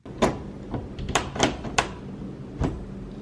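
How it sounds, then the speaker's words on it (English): A door handle is rattled and jiggled on a locked apartment door, giving a series of sharp metallic clicks and clunks at irregular intervals, close and fairly loud, with no voices. "Is the door handle moving on that side?"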